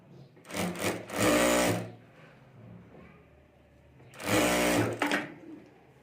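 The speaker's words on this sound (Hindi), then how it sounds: "इसको हमें यहाँ इस तरह से एक बार मोड़कर ऊपर सिलाई कर देनी है।" A sewing machine stitches a folded fabric strip for a handmade bag, running in two loud, close bursts of about a second each, separated by a quieter stretch.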